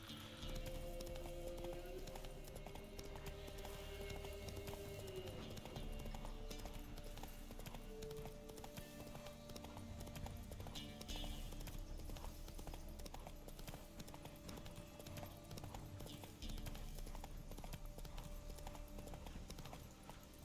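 A horse in The Witcher 3 video game trots along with a continuous rhythmic clip-clop of hooves, steady and moderately close over a soft tonal game background.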